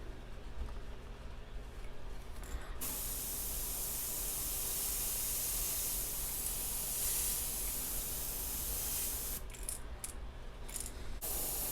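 An airbrush sprays pearl tangerine paint onto the tail of a custom squarebill crankbait, a continuous close hiss that holds steady for several seconds with brief pauses near the start and end.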